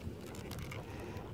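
Steady wind rumbles and buffets against the microphone, a low continuous roar with faint flutter, quiet and unbroken.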